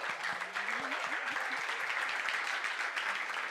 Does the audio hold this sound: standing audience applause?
yes